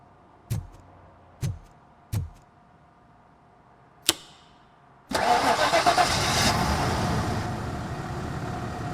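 A car in the video game RoboCop Rogue City, its engine cranking with four sharp isolated clicks and thumps before catching and roaring into a loud, steady idle that runs to the end.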